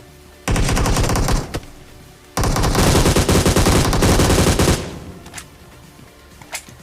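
Automatic fire from an AUG rifle in a video game: two long, loud, rapid bursts, the second longer, each ending in a few scattered shots.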